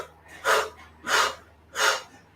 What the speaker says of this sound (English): Let's do our fire breath.